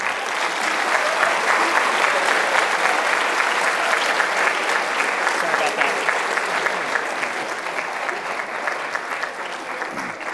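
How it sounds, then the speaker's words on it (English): An audience applauds Bill Golderer at a leadership symposium, a dense, steady wash of clapping that holds strong throughout and eases slightly near the end. "Let's give Mr. Golderer another round of applause, guys."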